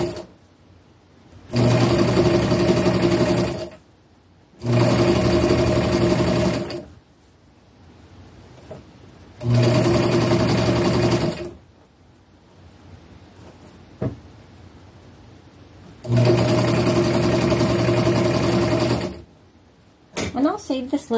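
A sewing machine stitches a zigzag seam on scarf fabric made from upcycled clothing, running in four loud, steady bursts of a few seconds each with short quiet pauses between them.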